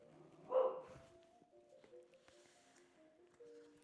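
A dog barks once, sharp and fairly close, near the start, then only faint indoor background sounds follow.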